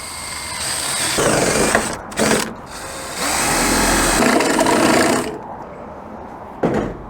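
An electric power drill bores two holes while a sealed lightbox fitting is installed, its motor whirring in two longer loud bursts with short gaps and a brief blip near the end.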